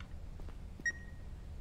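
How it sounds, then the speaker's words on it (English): A single short electronic beep sounds in a dark barn scene of the horror video game The Beast Inside, a thin tone that trails off over low ambient rumble, with no talk. "that beeping"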